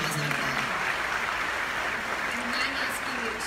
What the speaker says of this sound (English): Can just give him a good round of applause.